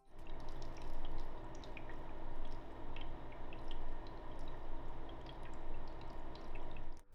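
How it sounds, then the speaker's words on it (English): Water cooling loop on a Raspberry Pi 5 with air pushed back through the reservoir's return line, giving a steady close gurgle of churning liquid with scattered drips and bubbles throughout, no voices. "the included reservoir's return line pushes a lot of air back into the loop"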